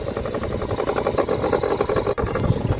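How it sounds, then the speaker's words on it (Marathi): A fishing boat's engine runs at a steady, throbbing idle while the net is hauled aboard. It chugs evenly and fairly close, with no talk over it. "आपण इंजिन चालू करून जाळी खेचतो"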